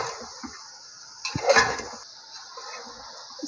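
Spaghetti being stirred and tossed in a pan with sauce and ketchup, a short clatter of utensil against metal over a steady background hiss, with a few faint taps around it.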